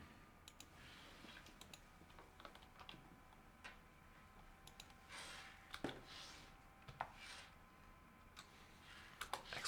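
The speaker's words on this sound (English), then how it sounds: "Expertly typing with one finger here" One-finger typing on a computer keyboard, sparse, irregular key taps and clicks at low level against quiet room noise, some louder presses toward the end.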